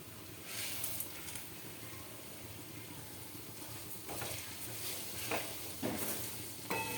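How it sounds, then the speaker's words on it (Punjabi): Spices being stirred in a pan over low flame while making pickle, giving a steady soft scraping and sizzling texture with a few brighter clinks and scrapes near the end; no voices. "ਥੋੜੀ ਦੇਰ ਇਹਨੂੰ ਵੀ ਹਿਲਾਉਂਦੇ ਆ ਤਾਂ ਕਿ ਸਾਰੇ ਮਸਾਲੇ ਇੱਕ ਦੂਸਰੇ ਦੇ ਵਿੱਚ ਮਿਕਸ ਹੋ ਜਾਣ"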